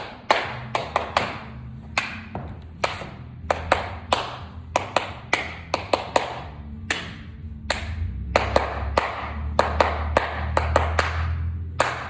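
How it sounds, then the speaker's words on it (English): Flamenco palmas: sharp, resonant hand claps in an irregular rhythmic pattern, close and fairly loud, with brief pauses between bursts and a low hum underneath. "palmas is very, very important. And it's not just clapping, Notice the sound."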